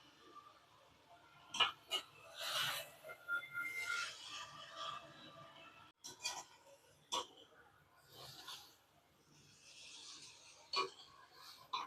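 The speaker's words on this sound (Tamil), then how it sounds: "அடியில் கரண்டி கொடுத்து இப்படி கிளறி விடணும்." Metal ladles scrape and clatter against a pan while paneer fried rice is stirred from the bottom, producing faint, irregular scraping and clinking strokes close by.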